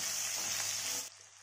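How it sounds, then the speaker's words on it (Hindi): Chopped onion, garlic and green chillies sizzle in a pan, a bright steady hiss for about a second before cutting off abruptly. "और अब इसमें डाल देंगे 1 बड़ी कटी हुई प्याज, और इसे भी थोड़ा सा इस तरीके से पका लें।"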